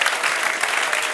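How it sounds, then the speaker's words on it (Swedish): An audience at a science slam breaks into strong, continuous applause, dense and even for a brief moment with no talk over it. "En starkare applåd."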